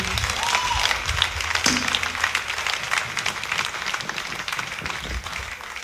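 Sunday service congregation clapping to welcome ministers arriving at the altar, sustained crowd applause that thins slightly toward the end, with some voices mixed in.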